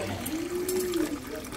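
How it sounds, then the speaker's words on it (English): Dish soap poured from a bottle, a short liquid trickle with a rising-falling tone over roughly a second, close by, with a voice speaking briefly around it. "Oops, I might have poured a little too much."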